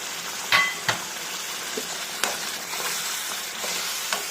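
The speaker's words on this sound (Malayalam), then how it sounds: "നന്നായി ഇളക്കാം" Thick masala with jaggery for a bitter gourd pickle sizzles softly in a pan while a spoon stirs it, bringing a few sharp scraping knocks over a low, steady frying hiss.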